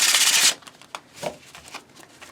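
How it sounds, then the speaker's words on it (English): Tarot cards are shuffled close by, starting with a half-second burst of riffling and then moving into soft, scattered taps and slides of the cards. "Try to shuffle on camera because I love watching people shuffle."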